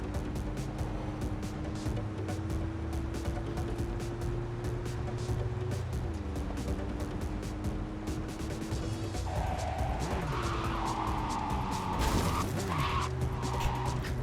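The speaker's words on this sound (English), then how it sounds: "Let's drive up the wrong side of the road for a bit." A car in the video game Cyberpunk is driven fast on the wrong side of the road. Its engine drones steadily with shifting pitch, and a scrape or tire-skid surge near the end sits over continuous traffic noise.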